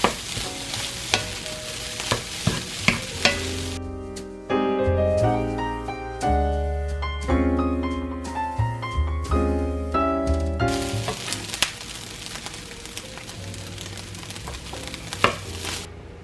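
Ground beef or turkey frying in a pan for a low carb lasagna, with steady sizzling and scraping stirs throughout; melodic background music swells over the cooking sounds in the middle stretch.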